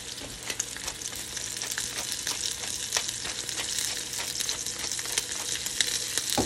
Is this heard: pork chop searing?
yes